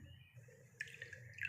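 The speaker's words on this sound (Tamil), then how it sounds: "இந்த மாதிரி ஒரு டம்ளர் தண்ணி வச்சுக்கோங்க. வச்சுட்டு இந்த மாதிரி நீங்கள் வந்து ஊற்றி" Amla juice concentrate is poured into a tumbler of water, a faint, brief trickle and splash close by, rising over a quiet background.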